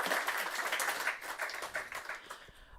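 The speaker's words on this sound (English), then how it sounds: "Please, a round of applause" Audience applause at a tech summit conference session, steady crowd clapping throughout at moderate loudness, fading slightly toward the end.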